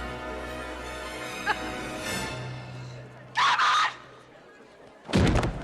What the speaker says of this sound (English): prepare yourselves for the most Oscar-worthy scream of all time